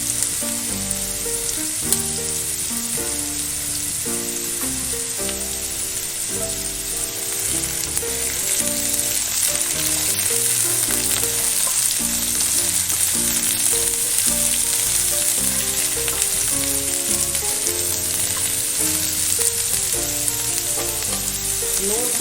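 Jackfruit, boiled with salt and turmeric, frying in hot mustard oil, a continuous close sizzle with a background melody playing throughout.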